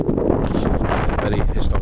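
Wind buffets a microphone outdoors in the UK at a metal detecting dig, a loud, rumbling, constant roar of gusts that fills the short stretch.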